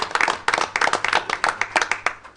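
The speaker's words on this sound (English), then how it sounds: "Give them a round of applause." A small group at a school board meeting claps in a brief burst of sharp, fairly close, distinct hand claps, with no talking over it.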